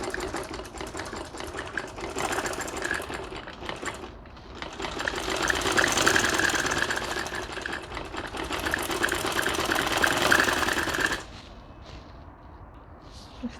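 Electric sewing machine stitching a ladies shirt, a fast mechanical whirring hum running in two long bursts with a short pause between, then stopping, leaving quiet room tone.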